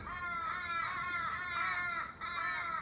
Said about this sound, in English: got crows going off constantly, and it's driving me crazy.